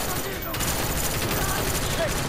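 A FAMAS rifle fires in long rapid bursts in the video game Call of Duty Black Ops. The gunfire is loud and dense from start to finish.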